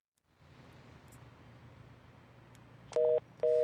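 Emergency phone call cutting off: a low, steady line hiss and hum, then two loud, even electronic beeps with a short gap between them, like a disconnect tone.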